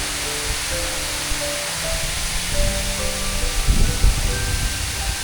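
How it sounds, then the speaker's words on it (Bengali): Water released from a dam at a river near Lava in the Dooars region gives a steady, broad rushing roar that carries through the whole stretch. Faint tonal sounds drift over it, and low thumps swell near the end. "অল্প জল বেরোচ্ছে আর এত উঁচু অবধি জল দেখুন এটা বন্ধ রয়েছে"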